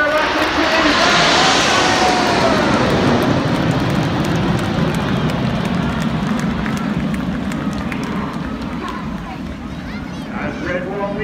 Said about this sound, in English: As Red Wall leads the aircraft over in big apple formation, he pulls us to the vertical